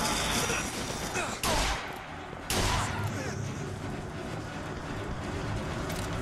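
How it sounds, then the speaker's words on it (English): Dense, continuous rapid machine gun fire in the video game BioShock Infinite roars without pause, with a couple of louder bursts standing out in the steady barrage. "this machine gun is just really powerful"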